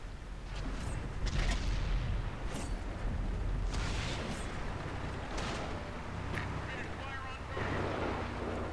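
Tank guns firing during a World of Tanks match on Xbox One, heard as a few heavy booms over constant rumbling engine and battle noise.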